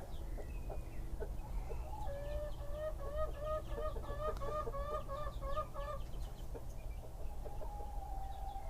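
A rooster clucks softly in a short run of repeated calls over a low steady hum, fairly faint and close.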